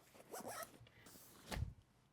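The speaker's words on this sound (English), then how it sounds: "Zip that up" A Peak Design Ultralight packing cube being zipped shut: a quiet rasping zip early on, then a louder, fuller zipper pull near the end, close by with no talking.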